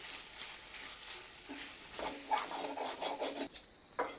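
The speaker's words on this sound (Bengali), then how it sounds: "এই যে নারিকেলটা ভাজতেছি এই ভাজা নারিকেলটাও ডালে দেব" Coconut fries and is stirred in a pan, with a close, continuous sizzle and scraping strokes of the stirring utensil layered over it.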